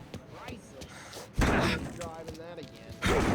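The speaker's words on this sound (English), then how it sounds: "Now let's get to these cars. Take your bat and start swinging." In the game Mafia Definitive Edition, a bat strikes a car, heard as two heavy, sharp slamming impacts about a second and a half apart, with fainter thuds and game sounds between them.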